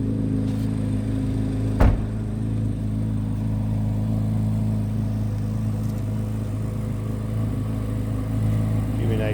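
A 2023 Chevrolet Corvette Z06 3LZ engine runs steadily close by with a low, throaty drone, a brief sharper burst near two seconds and a slight swell at the end, while someone talks over it.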